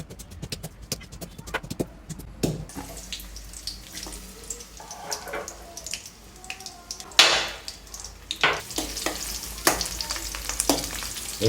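Garlic frying in oil in a pan, with stirring clatter, scattered sizzling and a few sharp spatula knocks, faint background voices in places.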